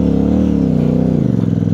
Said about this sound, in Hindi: ऑक्सीजन की दिक्कत है जी, मोशन ही नहीं पकड़ रही बाइक,